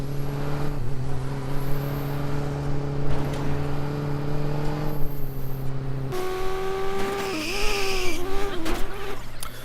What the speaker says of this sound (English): I get to spawn in a fast but uncontrollable car.